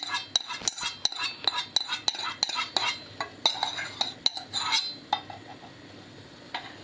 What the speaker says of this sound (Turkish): Şimdi elimle tekrardan bunları güzel güzel karıştırıyorum